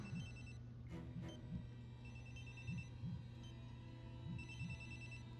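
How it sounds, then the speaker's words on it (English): A telephone rings inside the video game Hidden Agenda, its steady electronic trill repeating in short bursts over a low, constant hum of game ambience, with no talking. "Don't answer the phone, that triggers the bomb."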